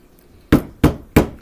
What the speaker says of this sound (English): Now I've got a little hammer and I'm gonna try and make it